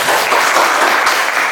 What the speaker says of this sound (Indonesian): Aku kasih tepuk tangan untuk.